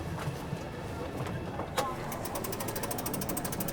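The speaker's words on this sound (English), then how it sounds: "I hear the fuel pump." Fuel pump of a classic car with a large steering wheel whirring and clicking as it primes, with faint quick ticking toward the end under low background noise.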